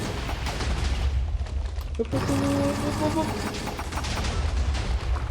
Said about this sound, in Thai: นี่ระเบิดยันใต้น้ำอ่ะระเบิดได้ทุกที่อ่ะ